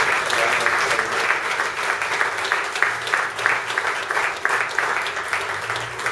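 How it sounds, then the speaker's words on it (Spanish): A church congregation breaks into sustained, dense applause, steady many-handed clapping filling the room for several seconds, with a voice faintly audible beneath it. "Y recibimos tu palabra con un fuerte aplauso para la gloria de Dios."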